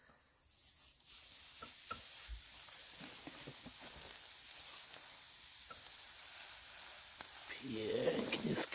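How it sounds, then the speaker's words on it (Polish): Steak sizzling on a hot stove gives a continuous bright hiss, with a few clicks and brief voices early on and a louder burst of sizzle near the end. "Pięknie skwierczy,"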